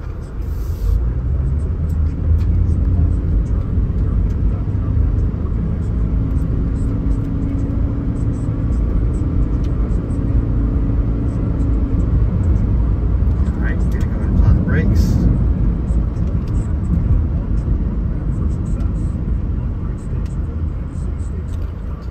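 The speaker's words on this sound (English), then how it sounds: "we're gonna go and take it on a quick test drive" A 2011 Toyota Prius on a test drive, with a steady low cabin rumble and road noise throughout and a brief whir midway, heard from inside the car.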